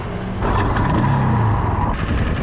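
Keeway CR 152 motorcycle engine running after repair, a close, steady low rumble that rises in pitch for a moment as it picks up, with no talk over it.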